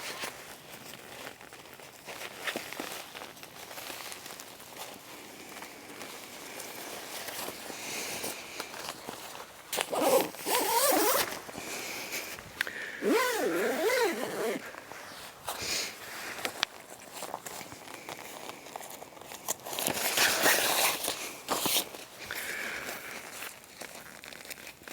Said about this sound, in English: I like to close all my zippers when I'm packing up a tent